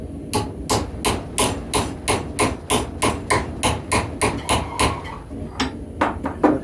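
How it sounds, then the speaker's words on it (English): Steady hammer blows ring out as a mower-blade knife guard is bent over the horn of an anvil, about twenty sharp metallic strikes in a quick even rhythm, close and loud, with a brief pause before a final few hits. "we were able to bend that over the horn of the anvil"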